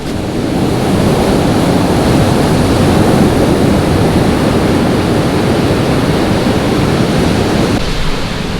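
Ocean waves break at Hamoa Beach, a black sand beach on Maui, giving a loud, continuous wash of surf with wind buffeting the microphone throughout and no voices.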